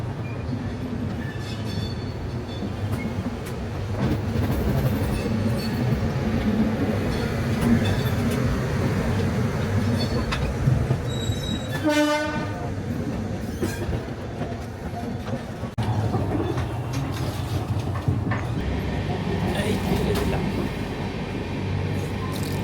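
The 12345 Saraighat Express rumbles along the rails with rhythmic wheel clatter heard from inside an AC 2 tier coach, and a horn sounds once midway.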